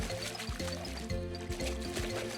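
Cartoon splash of two characters tumbling down a hill into a babbling brook, a run of watery sloshing and gurgling bursts in a rhythmic sequence, set against faint background music.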